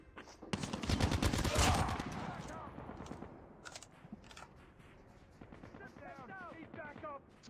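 Rapid gunfire from the mobile game Call of Duty Mobile, a loud dense burst of automatic shots early on, then sparser shots and game effects over a quieter background.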